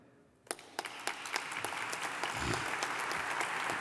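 Applause breaks out at a congress of Aragonese communities abroad, starting with a few scattered claps that quickly swell into steady, moderately distant clapping from the audience.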